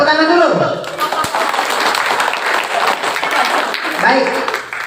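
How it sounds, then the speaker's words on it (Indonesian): Audience clapping hands at a school gathering marking the Prophet's birthday, a sustained burst of crowd applause between voices, with speech at the start and end. "Nah, tepuk tangan dulu."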